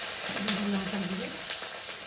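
Spices seasoned with turmeric and chili, alongside ginger and cumin paste for fish, frying steadily in a pan, a close continuous sizzle with light stirring noises and no voice over it.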